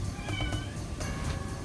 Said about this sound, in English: That's my cat, Callie.